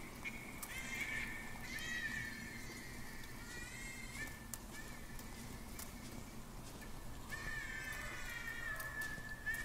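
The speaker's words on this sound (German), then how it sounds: "Was macht denn das Pferd da?" A horse in the video game The Pillars of the Earth whinnies twice, a shrill, wavering neigh standing out over a steady background rumble; nobody speaks.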